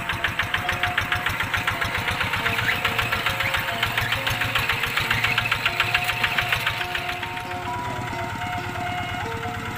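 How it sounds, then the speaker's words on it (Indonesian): A tractor engine used for plowing a rice paddy chugs at a steady idle, its rapid rhythmic knocking loud and close, easing slightly near the end. "banyak juga yang menggunakan traktor seperti ini"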